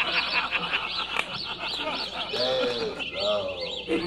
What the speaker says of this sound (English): Hey, the birds? Where are they from?